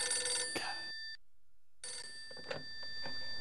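An electronic telephone rings twice in the Phantasmagoria: A Puzzle of Flesh video game, each ring a steady, bright trilling tone separated by a short silence.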